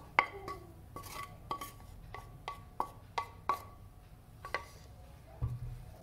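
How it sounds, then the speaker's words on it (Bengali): Prawns are tipped into a fig mixture in a pan and stirred, giving a string of sharp clinks and scrapes of a utensil against the pan, about a dozen light knocks at uneven intervals. "এইটার মধ্যে এই যে আমি আগে ডুমুরের একটা মিক্সচার বানিয়ে রেখেছিলাম, এতে চিংড়িটা ঢেলে দেবো।"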